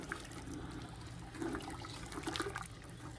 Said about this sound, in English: And then you're going to stir it and get it mixed in.